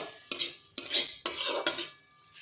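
A spoon stirs kothimbir vadi mixture in a pan on medium-low heat, giving four quick, bright metallic scraping strokes, close and loud, then silence.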